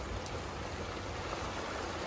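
Rain falls steadily in a soft, even hiss, faint and continuous, with no voices.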